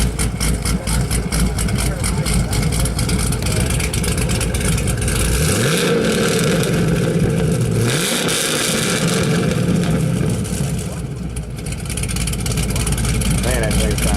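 A 1930 Ford Model A hot rod of Henry Ford steel with a Corvette rear end, heard at a cars and coffee meet. Its engine rumbles loudly and revs up twice, rising then falling back, while people talk nearby.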